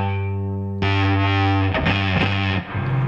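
An electric guitar runs through a boutique fuzz pedal, first a sustained thick chord, then a louder, saturated burst of fuzzy strummed notes, close and dense.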